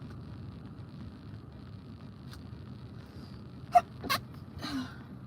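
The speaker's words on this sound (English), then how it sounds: "Oh, I have to sneeze." A single sharp sneeze bursts out against a steady low background hum, followed by a short sniff or breathy sound.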